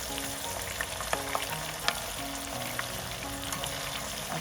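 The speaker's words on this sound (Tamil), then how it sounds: "இந்த எடுத்து வச்சிருக்கிற வெங்காயத்தை இதை நல்லா பொரிய விட தேவையில்லை, போட்டு ஒரு 4 நிமிஷம் பொரிய விட்டுட்டு எடுப்போம்" Onions frying in hot oil for a prawn moju, an even crackling sizzle close up with occasional light taps of a spoon against the pan, no talking.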